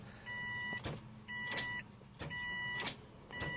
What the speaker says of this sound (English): I hope you can all hear that click.